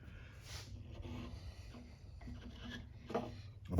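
A reamer widening a string peg hole in a handmade guitar gives a quiet, steady scraping and rubbing, close up and continuous, with a few slightly louder strokes toward the end.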